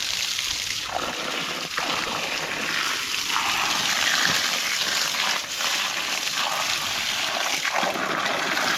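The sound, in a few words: water being poured on trees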